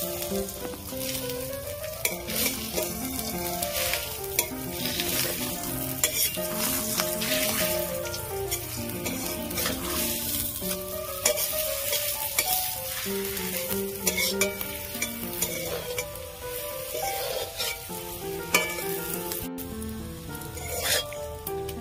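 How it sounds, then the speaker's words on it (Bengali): Bete greens paratha frying in a pan, a loud, steady sizzle with bubbling crackle and occasional scraping, close up, with no talk. "এইভাবে আমি লাল লাল করে ভেজে নেব"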